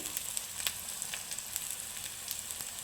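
Masala of chili powder and coriander powder frying in a pan for an Andhra-style amaranth leaf and liver fry: a steady close sizzle with scattered sharp crackles and pops throughout, with no talking.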